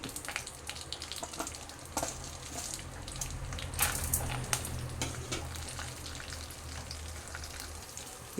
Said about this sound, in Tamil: சட்டி அடுப்பில் வச்சுருக்கோம் கொஞ்சோண்டு எண்ணெய் சேர்க்குறோம் இந்த பருப்பை இதில் சேர்த்து மிளகு